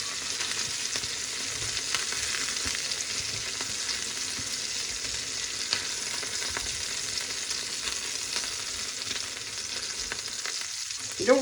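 Jamaican-style jerk prawns fry in a pan with a constant close sizzle, occasional faint utensil clicks, and a brief clatter at the very end.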